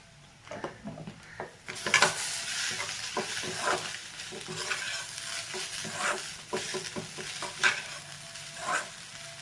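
Chapati noodles tossed with tomato sauce are stirred around a hot pan, a steady sizzle running under repeated scraping strokes and clinks of the spatula for the whole stretch, close and fairly loud, with no talking.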